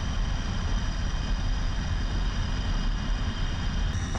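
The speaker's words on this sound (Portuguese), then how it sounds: "E temos outros MiGs 21 também iniciando o procedimento aí, taxiando para decolar. Então tá uma barulheira." MiG-21bis jets taxiing in the DCS flight simulator fill the air with a constant loud engine roar and whine, steady and unbroken throughout, with no talk.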